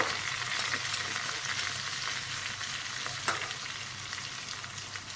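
Garlic, cumin and chillies fry in hot oil for dal tadka, giving a steady, close hiss of sizzling with faint crackles and no talking.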